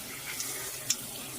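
Tap water runs steadily into a sink as thin white egg noodles are rinsed, a soft, even wash of flow with a couple of faint brief clinks, no voices.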